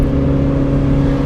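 Landon's car engine and exhaust drone loudly close by in front of a restaurant, a steady low growl with a humming tone that holds level across a short burst, with no talking.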